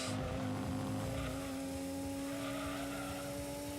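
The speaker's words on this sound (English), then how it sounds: "that engine sounds gorgeous" Race car engine in the video game Gran Turismo 2, a steady droning tone held at constant pitch throughout, fairly loud and alone.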